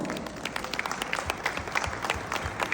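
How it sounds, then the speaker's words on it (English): Audience applause at a company event at a head office in Gurgaon, brisk, fairly close clapping from a room of people with distinct individual claps audible. "A big round of applause."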